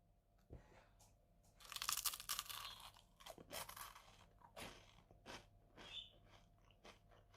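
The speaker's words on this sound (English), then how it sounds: "now we're gonna do the crunch test with teeth" Close crunching and chewing of a Space Raider snack bitten with teeth, with crisp brittle cracks and munching in uneven bursts, fairly quiet with no talk.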